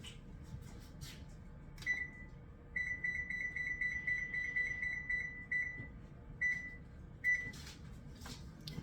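Oven control panel being set to 400 degrees for baking apple pecan muffins, a series of short electronic beeps in a quick run, then a few spaced single beeps, faint and nearby.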